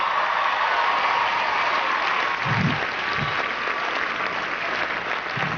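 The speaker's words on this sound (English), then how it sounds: "Give him a big round of applause." Applause breaks out for Bobby Brown at an awards-show comedy monologue, a dense, steady wash of clapping from a large crowd that holds evenly throughout.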